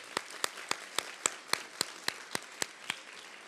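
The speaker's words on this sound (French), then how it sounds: "que je vous demande d'applaudir" Applause at a political meeting in Éguilles: sharp, evenly spaced hand claps, about a dozen in steady rhythm, fairly close and clean over a quiet room.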